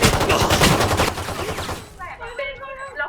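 Rapid automatic gunfire bursts from the video game Valorant fill the first two seconds, loud and dense, then give way to quieter in-game effects and tonal sounds.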